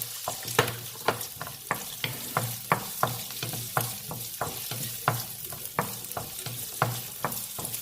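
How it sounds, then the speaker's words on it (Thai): Rice stir-fried with onion and carrot in a pan, a busy close sizzle with frequent irregular spatula scrapes and clinks against the metal throughout. "ผัดให้แครอทมันสุกนิดนึง"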